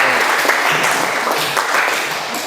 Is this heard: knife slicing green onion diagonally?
no